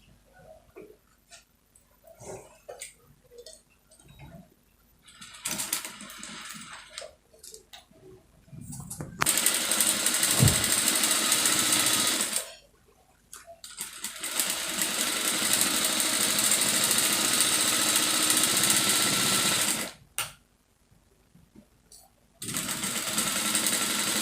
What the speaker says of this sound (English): So I'll go to the machine now and sew these two together.